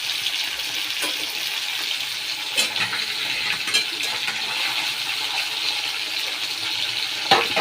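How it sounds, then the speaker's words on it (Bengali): Small puti fish sizzle and fry in a pan for a Bengali curry, a steady hissing crackle close by, broken by a few sharp clinks of a utensil against the pan. "ততক্ষণ এই ভাজাটা হোক"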